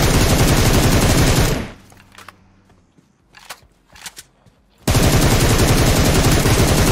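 Heavy automatic gunfire in PUBG Mobile, loud rapid bursts that stop abruptly, leaving a near-silent stretch with a few sharp clicks before the loud fire resumes.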